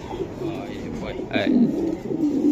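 Racing pigeons coo close by in a short burst, a soft throaty call rising partway through against a low background hum, with people talking nearby.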